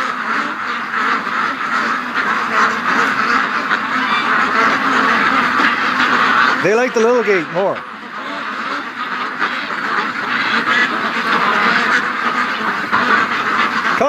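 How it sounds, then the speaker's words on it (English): Ducks quack in a short, clear burst while being herded toward a small gate, heard over steady outdoor noise with a person talking nearby. "Okay, look at these ducks. They're going over to the little door."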